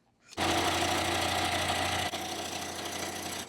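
A sewing machine runs steadily, stitching a line down the center of a zipper pouch, its motor buzz and rapid needle chatter starting abruptly and continuing for a few seconds with a slight shift in tone partway through.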